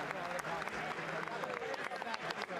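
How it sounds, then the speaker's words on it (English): Crowd applause fills a large hall during a televised State of the Union address, a dense steady wash of clapping that stays loud throughout with scattered sharper claps. "Okay, let's turn down the clapping."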